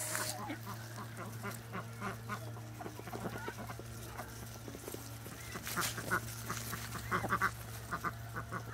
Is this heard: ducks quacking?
yes